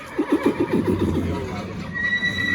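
A horse whinnies in a rapid series of quavering pulses, close and fairly loud, then fades into ambient noise with faint tones.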